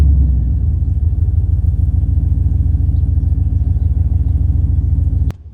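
A Holden VU SS Fifty ute with a modified exhaust idles and rumbles steadily up close, a deep loud engine burble holding even for several seconds before cutting off abruptly.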